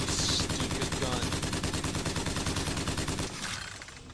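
Rapid, loud gunfire from a weapon in the video game Bioshock Infinite rattles out in a continuous burst that trails off near the end.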